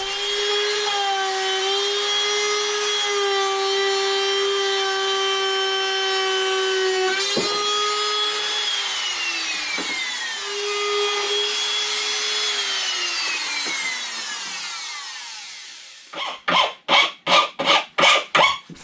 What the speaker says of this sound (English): used the same router bit along the edges